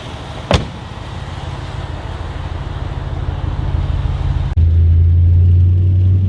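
An Audi RS4 engine idling nearby: a knock-like transient at the start, then a continuous low rumble that steps into a louder, steadier drone partway through.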